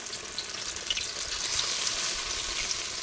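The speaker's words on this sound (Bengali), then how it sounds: "এবার ওই তেলের ভিতরে এক এক করে এই পাতাগুলি আমি" Steady, loud sizzling of leaf fritters frying in hot oil, a continuous crackling hiss with no voices.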